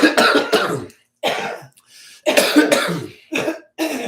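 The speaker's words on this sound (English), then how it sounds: "I think we both have to cough" Two people cough in turn, several bursts of harsh coughing and throat clearing with short pauses between, close and loud, with no talk over them.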